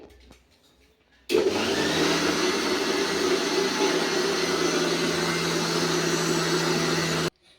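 A kitchen mixer grinder blends leftover cooked rice into a dosa-style batter for homemade appadalu, switching on abruptly with a loud, steady whirring motor hum that runs continuously for about six seconds, then cuts off.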